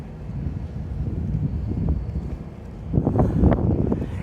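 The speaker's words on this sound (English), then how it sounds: "unfortunately today is very, very windy" Strong wind gusting at a mountain village in Flåm, Norway, a steady low rumble of buffeting across the microphone that swells into heavier, louder gusts toward the end.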